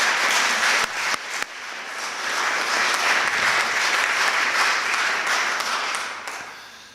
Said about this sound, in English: give a special round of applause to all our graduates to wish them well